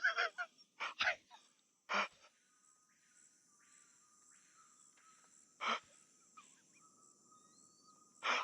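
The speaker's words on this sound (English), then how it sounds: "I didn't know there were bird sounds in the game" Geese honk in the open-world game Kenshi, several loud bursts clustered at the start and a few more spaced out later, with a faint steady insect-like chirping and occasional soft calls filling the quiet gaps.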